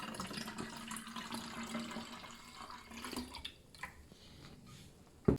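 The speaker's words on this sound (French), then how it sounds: "Vous arrosez sur les feuilles." Water poured over plant leaves in a vegetable garden in May, a soft continuous splashing and trickling with a few drips, moderately close, ending in a louder thump.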